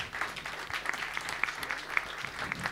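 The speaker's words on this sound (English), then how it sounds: "I would like to have a big round of applause for all the panelists." A conference audience applauds panelists, with moderate, fairly even clapping from a small crowd heard at some distance across the short stretch.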